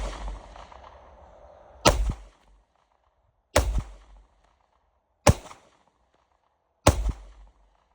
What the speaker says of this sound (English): Alright, there's 5 shots.